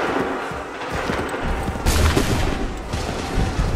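A volley of musket fire on an Assassin's Creed 3 battlefield, a broad crackling burst of many shots swelling midway and rolling on amid battle noise, with little speech.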